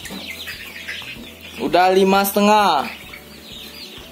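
Young roosters, about a month old and raised behind a kitchen, cluck in a loud close burst from one bird, with softer background clucking and a brief spoken word.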